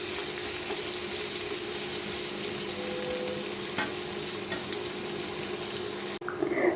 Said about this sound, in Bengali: এরপর বেরেস্তার মতো করে ভেজে নিব।